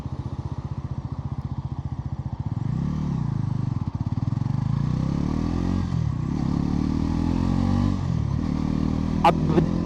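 A Bajaj Pulsar NS 400Z motorcycle with a slipper clutch pulls away in first gear and climbs through the gears, its engine note rising and dropping with each shift, steady and close with no talk.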